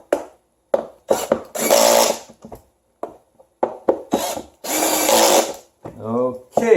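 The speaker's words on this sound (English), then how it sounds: "let's tighten the screws here as well" A power drill drives screws into an office chair armrest in repeated short whirring bursts, each one sharp and close, with pauses and a brief voice between them.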